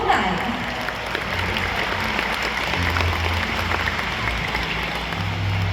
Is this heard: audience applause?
yes